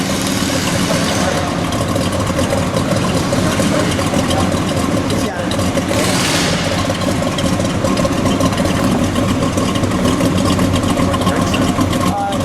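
A 1969 Ford Fairlane Cobra with a 428 engine idles in a steady, loud, continuous rumble close by, while people talk briefly over it.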